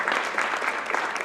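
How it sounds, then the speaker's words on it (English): An audience at a press event on PARCC results gives a short burst of dense applause for an assemblymember, a steady wash of many hands clapping. "Give him a round of applause for being here."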